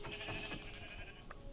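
A Minecraft sheep bleats faintly in a wavering call over a soft game background, with no speech.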